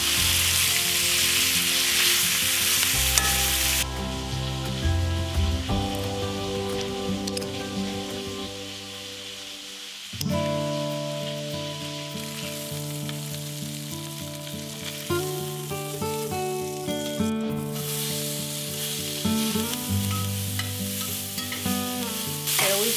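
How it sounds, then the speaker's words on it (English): Meat sears in a frying pan with a steady, close sizzle and occasional stirring, running under continuous background music. "Looking for a good sear, a nice color."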